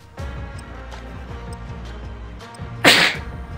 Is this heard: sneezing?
yes